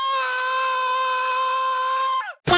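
A person screams in one long, loud, sustained high-pitched cry lasting about two seconds, then breaks off abruptly into a brief gasp.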